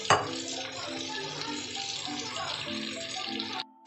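Chicken bhuna masala frying over a low flame, a steady broadband sizzle running almost continuously before cutting off near the end, with a voice talking over it.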